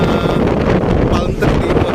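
Strong gusting wind buffets the microphone during a bike ride near the Corniche in Doha, Qatar, a loud continuous roar that masks most other sound, with a voice faintly buried beneath it.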